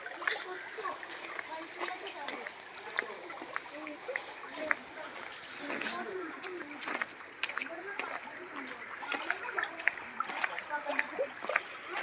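A small, narrow stream near a waterfall trickles and splashes steadily at low level, a continuous watery hiss with people talking over it.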